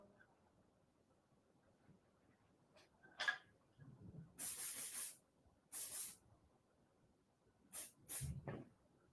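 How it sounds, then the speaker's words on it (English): Make Me Shine gloss spray is sprayed onto styled hair in several short aerosol bursts separated by pauses, a sharp, close hiss each time over quiet background, with no talking. "Let's spray it with some Make Me Shine spray gloss."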